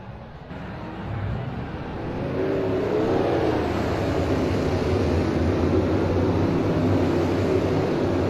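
Engines of a pack of race trucks swell into a steady, dense rumbling drone as the field rolls off at Bristol in a racing video game, loud and continuous with no talk.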